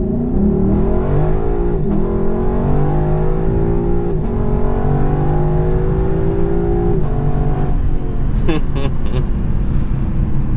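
The naturally aspirated 5-liter quad-cam V8 of a Lexus LC 500 pulls through the gears in a 0 to 60 run. Its loud, steady engine note rises in pitch and drops back at each shift, and a brief clatter comes near the end.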